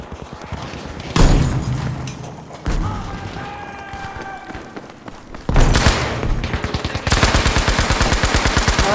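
Gunfire from the video game Battlefield V rings out loud and close: single heavy shots, short pauses, then sustained rapid automatic bursts rattling steadily toward the end.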